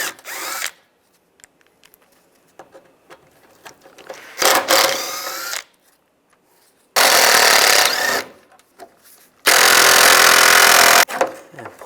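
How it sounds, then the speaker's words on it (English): Power driver with a T30 socket backing screws out of the A/C condenser area of a 1999-2005 Volkswagen Jetta, sounding in three loud whirring bursts separated by quieter handling noise. "Then these four screws, we're going to use a T30 for those screws."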